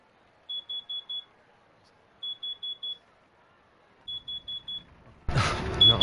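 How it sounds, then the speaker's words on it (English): Smoke detector alarm sounding in a PS4 video game: three bursts of four rapid high-pitched beeps separated by short pauses, followed by a sudden loud noisy crash and rumble at the end. "It was a smoke detector."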